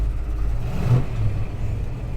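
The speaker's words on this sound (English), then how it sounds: "It sounds like a muscle car" A 1968.5 Ford Mustang GT R Code 428 Cobra Jet with a quad-tip exhaust rumbles on the move, a deep steady engine drone with a slight swell in revs, heard from inside the car.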